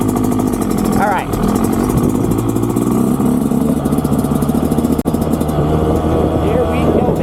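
A dirt bike engine runs loud and close, holding a steady buzzing idle with rough revs, while someone talks over it.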